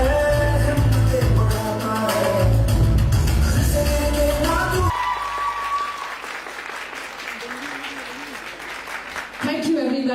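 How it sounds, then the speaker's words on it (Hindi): Audience applause fills a celebration event stage, loud and steady for about five seconds over music, then fading to a quieter room with scattered clapping and a short burst near the end. "तालियों से शुरुआत करते हैं एवरीबॉडी।"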